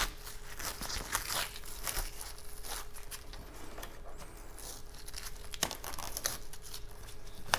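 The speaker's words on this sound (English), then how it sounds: "now we're going to go ahead and weed that" A pick weeds heat transfer vinyl, faint crinkling and tearing as the backing is peeled away, with small scratchy crackles and occasional sharper snaps, quiet and close, with no talk.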